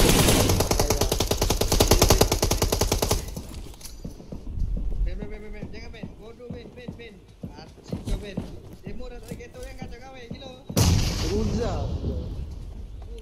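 Gunfire in PUBG Mobile on the Miramar map, with a dense rapid burst of automatic shots at the start, scattered sharper shots in the middle and another heavy burst near the end, and voices talking throughout.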